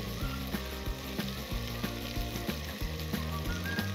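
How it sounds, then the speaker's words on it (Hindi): Tomatoes and green chillies fry with garlic-ginger paste in a pan for a chicken curry, giving a steady close sizzle with scraping stir clatter and no talk. "लहसुन अदरक का पेस्ट डालने के बाद इसको थोड़ा सा फ्राई किया और अब इसके अंदर जाएंगे टमाटर और हरी मिर्चें।"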